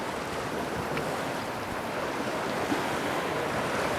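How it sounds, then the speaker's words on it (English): Rushing rapids on the North Platte River surround a drifting fishing boat in a constant broadband roar of water with some wind noise, steady throughout and no voices. "We'll ride them through this rapids and see if we can net them"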